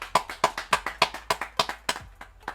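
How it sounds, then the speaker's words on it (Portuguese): Hands clap in a steady, even rhythm, roughly nine sharp claps, close and clear with no talking over them. "Aplausos pra você, velho"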